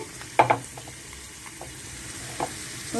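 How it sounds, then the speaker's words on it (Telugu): Tempering of garlic, curry leaves, cumin and mustard seeds frying in hot oil and ghee for a cucumber tomato dal, a low steady sizzle broken by a few sharp crackles and stirring scrapes, with no talk. "పోపు వేగుతుంది"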